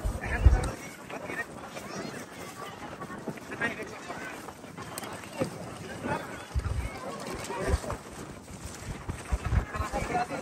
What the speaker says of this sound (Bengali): এত যে বাতাস ছিল, বাড়ি কুইরা চোখে আসে।